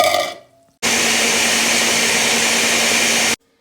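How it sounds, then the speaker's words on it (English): A blender roars steadily and loud for about two and a half seconds, pureeing fruit with a quarter cup of wine for a traditional black cake, starting abruptly after a short lull and then stopping. "I'm gonna add my quarter cup of wine here, and then I'm gonna start blending this"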